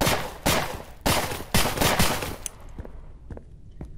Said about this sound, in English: We can shoot our weapon by pressing the left mouse button.